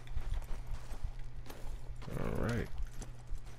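Horse hooves clip-clop steadily at a moderate distance in Red Dead Redemption 2, a western open-world game, running under ambient game sound while someone speaks briefly.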